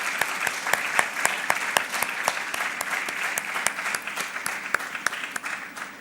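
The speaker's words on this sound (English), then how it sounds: "a big round of applause for all the participating artists" Applause for the participating artists at the launch of an airport art programme at Kempegowda International Airport, Bengaluru: a steady round of clapping from a gathered crowd, dense and even, with sharper individual claps standing out throughout.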